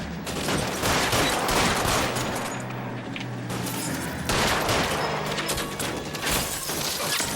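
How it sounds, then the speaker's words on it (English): Dense, sustained gunfire from a shootout in the L.A. Noire video game on PS4, with continuous overlapping shots and crashes filling the whole stretch, loud and steady with no clear talking. "Lay down some covering fire."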